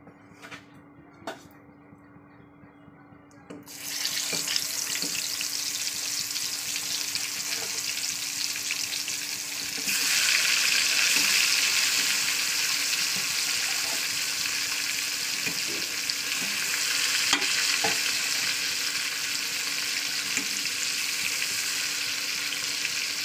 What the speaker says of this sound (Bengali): তেলটা গরম হয়ে গেছে, এবার আমি মাছগুলোকে দিয়ে দেবো আস্তে আস্তে।